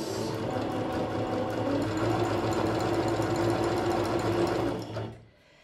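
A Singer Curvy sewing machine runs steadily through a seam, its rapid, even needle clatter loud and close for about five seconds before stopping abruptly.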